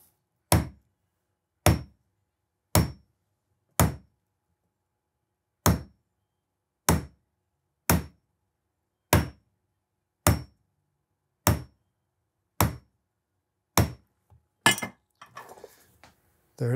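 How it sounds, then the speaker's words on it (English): A hammer drives nails into a handmade leather cowboy boot in a bootmaker's shop, about a dozen sharp, evenly spaced blows, close and clear, followed by a few softer taps and rustling. "So we'll go ahead and nail them, hammer it."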